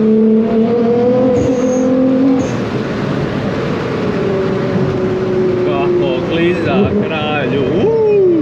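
Car being driven hard, a loud engine drone rising and falling with gear changes and revving, tyre squeal-like tones near the end, with voices over it.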